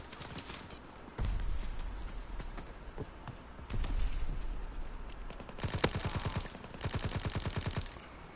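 Rapid automatic rifle fire in Call of Duty WW2 online play: scattered single shots early, then two sustained, fast rattling bursts of machine-gun fire, loud and close, with no talk.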